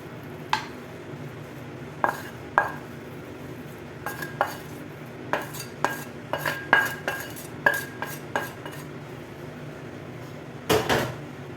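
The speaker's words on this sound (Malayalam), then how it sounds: "ഞാനിത് വേറൊരു പ്ലേറ്റിലേക്ക് മാറ്റാം" Cooked egg noodles shifted onto another plate, with a series of light clinks and scrapes of utensils against dishware, spaced irregularly and close by, ending in a brief cluster of clatter.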